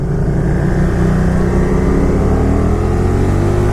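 Can-Am Spyder RS-S three-wheeler engine running loud and steady close by, with a low, throbbing drone and rumbling harmonics that shift slightly through a downshift, no voices.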